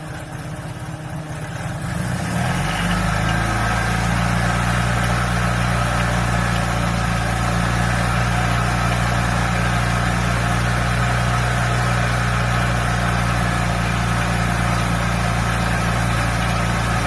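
A Honda 600 sedan's small engine catches and settles into a steady, loud idle that hums evenly without change for the rest of the stretch.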